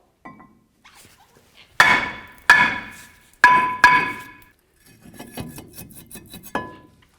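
A hammer strikes a Ford F-250 Super Duty brake rotor to free it: four loud, ringing metallic blows in two pairs, then a softer clatter and one more hit, close up.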